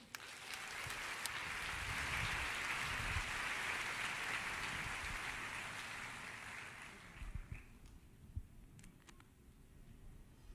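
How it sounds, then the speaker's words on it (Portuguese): A church congregation applauds at length, a broad wash of clapping that swells, holds, then fades out around the seven-second mark, leaving a quiet room with a few scattered thumps. "Vamos recebê-la com aplauso."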